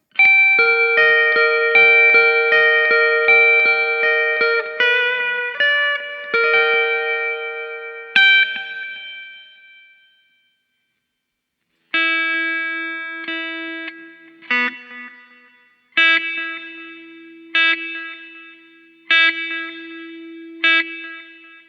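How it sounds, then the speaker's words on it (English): Clean electric guitar notes and chords played through a Boss Katana-Mini X amp with delay and reverb, each pluck trailing off in echoing repeats, with a pause midway before more single struck notes ring out. "We've got delay and reverb"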